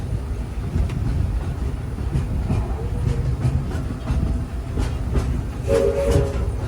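Disneyland Railroad train rolling along its track on the Grand Circle Tour, a steady close rumble of wheels with rhythmic clicks over the rail joints and faint squeals late on.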